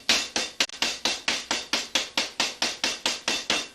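Steady rhythmic pounding of a meat mallet flattening a thick veal cutlet on a board for a marinara recipe, about fifteen sharp, even thuds close up with no talk.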